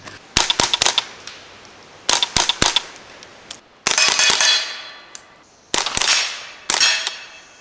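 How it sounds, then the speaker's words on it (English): Suppressed .223 rifle fired from a short barrel through a Sylvan Arms titanium suppressor: about a dozen sharp, close cracks, some in quick doubles and triples, a few with longer noisy tails, with short pauses between strings. "Let's do a couple rounds real quick."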